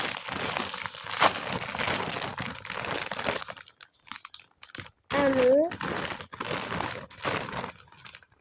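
Plastic packaging crinkles and rustles loudly up close in repeated bursts, with a short pause and a brief spoken word partway through.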